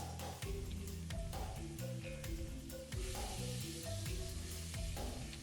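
Butter and olive oil sizzle steadily in a pan while being stirred, a dense continuous frying hiss with clinking utensil strikes mixed in, played under background music with no talking.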